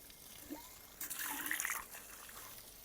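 Tap water running into containers at a mud house, a short splashing burst in the middle with faint trickling before and after, fairly quiet and without speech.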